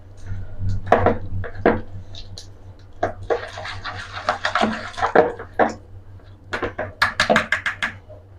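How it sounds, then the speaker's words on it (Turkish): Sugar and vegetable oil are whisked together in a bowl for savory crisp cookie dough, the whisk striking the bowl in quick, clattering bursts and runs of clinks, close and fairly loud over a low steady hum. "Şöyle güzelce hepsini birbirine şöyle önce çırpıcı yardımıyla hepsini birbirine şöyle harmanlayacağım."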